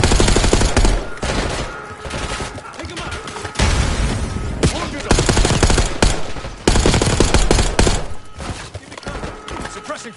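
Rapid, loud automatic gunfire in Call of Duty Black Ops 6, with dense bursts of shots in uneven volleys and short pauses between them, joined by crashes and game voices.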